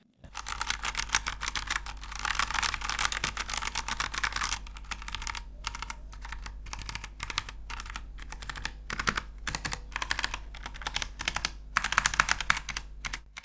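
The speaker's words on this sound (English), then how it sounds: "If you don't tend to press the keys all the way down hard, the sound here is definitely gentle" Rapid clacky keystrokes typed in bursts with brief pauses, close and crisp, with no one talking.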